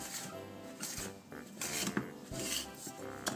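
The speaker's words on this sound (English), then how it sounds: "We run a knife down the side, all around the outside and the centre" A knife runs around the edge and centre of a fat-free tutti frutti cake in its tin, giving close scraping and rasping strokes with a few metallic clinks.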